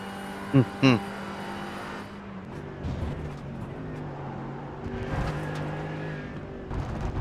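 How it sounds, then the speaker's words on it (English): Gas race engine up front in a sprint race, GR86 and GT4 cars, droning steadily with shifting pitch as it revs, a couple of short sharp bursts early on, under occasional talk. "You can just hear the difference with that electric engine compared to that gas engine up front in Bradley."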